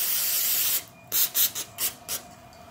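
Grit is being rubbed and scrubbed off the outside of a Nissan fuel injector, a dry rasping brush sound in about five short, close strokes after a brief steady scrub, with no talk.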